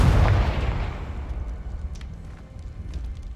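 Confringo fire spell blasting in Hogwarts Legacy: one heavy boom at the start that rolls off into a fading low rumble, with faint crackles scattered through the tail.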